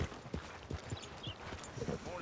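A horse in Red Dead Redemption 2 clip-clops along in a steady walking rhythm, the hoofbeats close and moderately loud under a low ambient wash.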